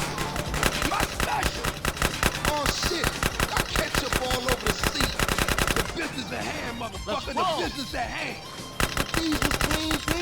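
Rapid, sustained gunfire from GTA San Andreas, dense automatic bursts hammering almost nonstop, with a short lull before shooting resumes, loud and close while people talk and shout over it.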